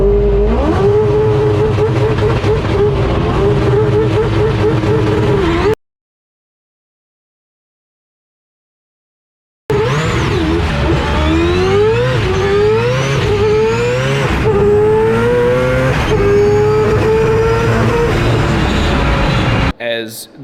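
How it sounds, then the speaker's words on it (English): Four-rotor race car launching and accelerating hard under boost, a loud, raw rotary engine howl rising in pitch through several climbs, cut by a few seconds of silence before the roar resumes. "I launched the car better than I expected because I pushed too far."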